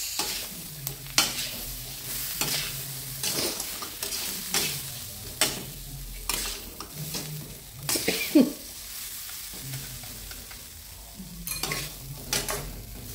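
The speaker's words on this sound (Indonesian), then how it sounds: "Nanti ininya pada nembak-nembak nih cuminya. Cuminya meletus." Salted squid and tempeh are stir-fried on a low flame. A gentle sizzle is broken by repeated scraping stirs and occasional sharp pops, and there is no talking.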